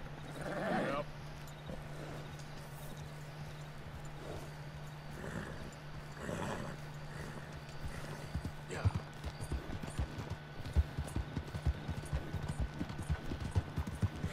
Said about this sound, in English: I got me a horse!